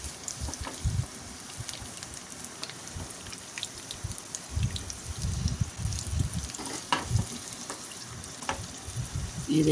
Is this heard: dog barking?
no